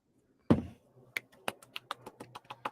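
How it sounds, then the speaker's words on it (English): A quick golf clap at a business talk show: a loud opening clap, then a light, brisk run of soft hand claps that starts near and fades slightly, with no talking over it. "Bris, I need a golf clap."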